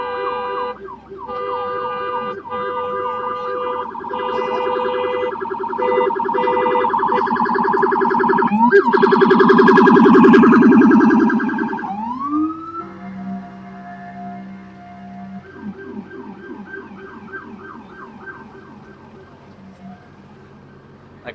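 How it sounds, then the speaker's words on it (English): A police car siren on a Friday night street in Midtown Manhattan, New York City, wails loudly and swells as it passes close by, then fades into a quieter, more distant rising-and-falling wail. "Sound like a police car is trying to pass by"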